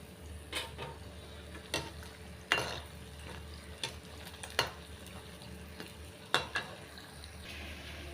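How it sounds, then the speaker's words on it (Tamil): Semolina balls deep-frying in hot oil until golden, a quiet steady bubbling with a few sharper clicks and pops scattered through, fairly faint and with no talking. "இதே மாதிரி எல்லா உருண்டையும் பொரிச்சு எடுத்துக்கலாங்க"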